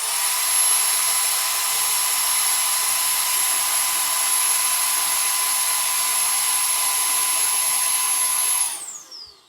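A Milwaukee M18 Precision Blower (0887-20) runs steadily at its second speed setting, a loud, close, high-pitched whine with airy rush that holds even for about nine seconds before cutting off and spinning down.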